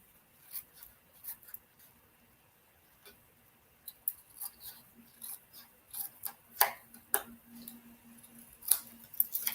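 Scissors cut paper for paper-pieced quilting: sparse, quiet, close snips and crisp clicks arriving irregularly, growing more frequent toward the end, with no talk.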